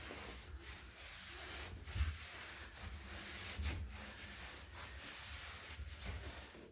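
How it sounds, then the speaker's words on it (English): A cloth rubs across a wooden furniture drawer being wiped down with TSP cleaner, producing soft, faint, repeated scrubbing strokes with quiet hiss and no speech. "So just wiping down one drawer"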